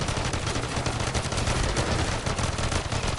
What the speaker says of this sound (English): These pistols are crazy.